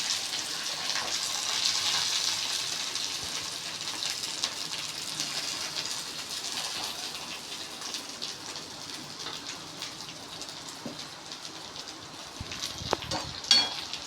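Curry leaves sautéing in a pan for rava upma give a steady, soft sizzling crackle with occasional stirring clinks, a few louder scrapes near the end, and no voices.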